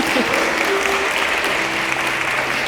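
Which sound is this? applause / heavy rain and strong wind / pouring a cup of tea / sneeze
applause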